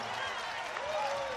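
Basketball crowd at the Trafalgar Centre in Nelson cheering at a halftime buzzer during an NZNBL game, a steady roar of applause and voices filling the arena.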